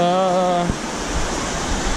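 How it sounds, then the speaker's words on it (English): A small waterfall on a mossy, rocky stream along the trail to Fautaua Waterfall in Tahiti gives a loud, steady rushing roar that takes over after a brief tonal sound at the start. "you could see a kind of baby waterfall right there"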